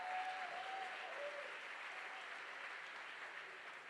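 A gala audience applauds a choir of a services association, broad, sustained clapping from a large crowd heard at a distance, steady and fairly faint throughout.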